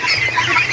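Loud, close quacking and honking calls from Muscovy ducks, blending into a continuous cluster of nasal fowl voices.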